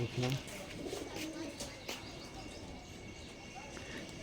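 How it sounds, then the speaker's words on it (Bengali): Giribaz pigeons coo in a loft, a brief louder call near the start, then softer coos and chirps under a voice talking nearby. "এখানে অনেকগুলো কবুতর আছে দেখতে পাচ্ছেন"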